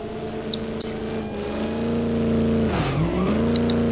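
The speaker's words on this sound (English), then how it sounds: "that was aggressive spin out" Racing car engine in the BeamNG.drive video game, a steady loud droning engine tone that dips and wavers as the car spins out, with faint tire squeals, no talk.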